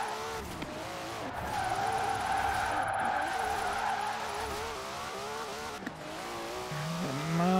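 Car drifting in Forza Horizon 4, with a sustained, loud tire squeal and skid over a revving engine, pitch wavering through the slide, a short dip near the end, then the engine swelling again.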